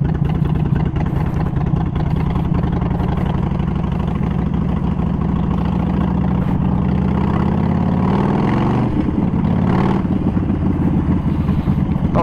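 A Harley-Davidson Sportster 48 with a Vance & Hines Short Shots exhaust rumbles at a steady idle, loud and close, its deep throb running unbroken for the whole stretch.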